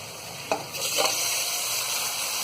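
Mutton pieces fry with browned onions in a pressure cooker, giving a steady even sizzle. A couple of brief stirring knocks come early, then a constant hiss continues, close and moderately loud, with no voices.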